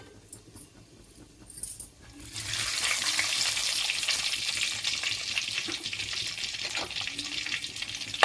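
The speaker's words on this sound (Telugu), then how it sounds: "అలా మనకు ఆయిల్ వేడెక్కింది. దీనిలో మనం తాలింపు గింజలు వేసుకున్నాము." Tempering seeds hit hot oil and burst into a loud, steady sizzle after a couple of soft handling clatters, crackling continuously close by with occasional pops.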